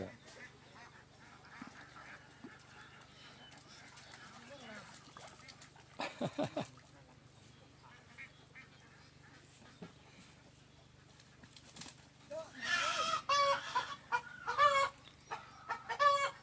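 Ducks on a duck farm in Isan, Thailand, call intermittently, with a burst of quacking and clucking late on, over quiet background noise and occasional faint voices.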